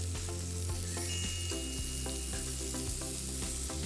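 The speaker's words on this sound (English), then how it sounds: "Give these a little bit of a flip." Rissoles sizzling in a hot pan as they get flipped, a dense continuous hiss with repeated light clicks and taps of the utensil, close up, with a steady low hum behind and no talking.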